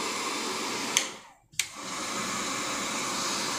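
Hot-air blower inside a waterproof nano coating machine for mobile phones, drying nano liquid in its chamber, gives a steady, fairly loud broadband whoosh that cuts out briefly and restarts with a click.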